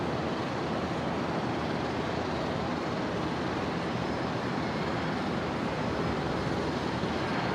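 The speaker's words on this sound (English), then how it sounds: "Jetstar 484 coming in from Newcastle here" Jetstar flight 484 from Newcastle descending to land on runway 01 right at Brisbane International Airport just before sunset, a steady broad engine roar that holds evenly throughout with no voices.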